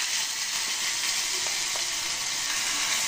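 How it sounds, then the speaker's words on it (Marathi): Cumin, mustard seeds and red chilli crackling in hot oil for a tempering, a steady, even hiss of frying with a few faint pops, close and moderately quiet. "आता चांगलं तडतडलं आहे"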